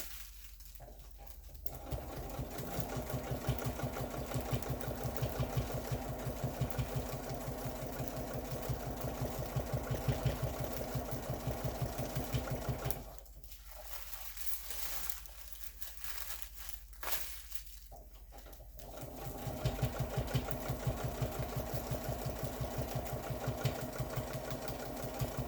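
A domestic sewing machine stitches continuously for pantograph machine quilting, its motor buzzing steadily and near, with two short pauses in the middle before the stitching resumes at full pace.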